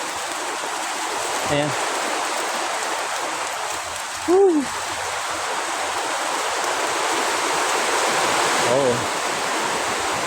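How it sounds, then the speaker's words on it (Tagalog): Sudden heavy rain pours down outdoors at a sunken church, a constant loud hiss filling the whole stretch while a man lets out a few short exclamations. "Biglang umulan dito."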